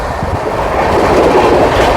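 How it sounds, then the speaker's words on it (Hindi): Tatanagar Jammu Tawi express train being overtaken at about 130 km/h, a loud continuous rushing roar of wheels and wagons with clickety-clack rhythm close by. "टाटा नगर जम्मू तवी को फुल 130 की रफ्तार में ओवरटेक हो रहा है"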